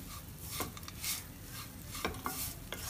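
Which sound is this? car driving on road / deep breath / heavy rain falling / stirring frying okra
stirring frying okra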